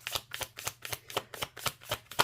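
Tarot cards being shuffled by hand, a brisk run of about nine evenly spaced riffling bursts, close and crisp, with no talking.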